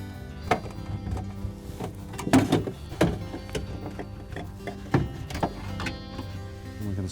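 A refrigerator's evaporator cover slides out of its compartment with a series of plastic scrapes, knocks and clunks, irregular and close, with no talk.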